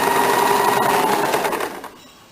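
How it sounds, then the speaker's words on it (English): A sewing machine runs steadily and loudly, stitching a blouse sleeve into the armhole from the shoulder notch, then winds down as the stitching stops near the end. "Now I am starting the stitching from the shoulder point, the notch mark which we have done."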